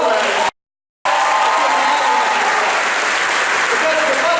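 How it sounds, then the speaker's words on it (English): A crowd at a college commencement gives a loud, sustained round of applause with some cheering, briefly cut by a short silent gap near the start before the clapping resumes at full strength. "Let's give them all a round of applause."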